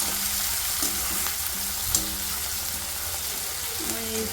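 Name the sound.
tomatoes frying in a pan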